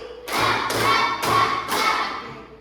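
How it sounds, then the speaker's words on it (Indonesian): Four loud, evenly spaced hand claps from a classroom clapping game called tepuk nyamuk, each a sharp burst with a short ring, heard close and alone with no talking. "Tepuk nyamuk 4 kali."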